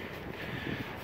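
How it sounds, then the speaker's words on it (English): Strong wind blows across an outdoor farm setting beside a vertical TMR mixer, making a steady, broadband rush of buffeting against the microphone with no voices. "today's really getting pretty windy."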